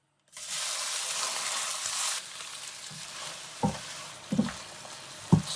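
Pork belly dropped into bubbling caramelized rock sugar in a wok, bursting into a loud hissing sizzle that eases to a quieter fry, followed by several scraping stirs and clanks of the utensil, close up with no talk.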